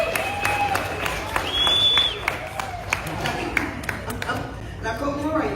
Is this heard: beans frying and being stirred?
no